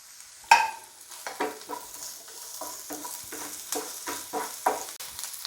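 Curry leaves, ginger and garlic sizzle in hot oil in a pan for Kerala-style squid thoran, with a sharp crackle as the leaves go in, then repeated scraping stirs and a steady low frying hiss.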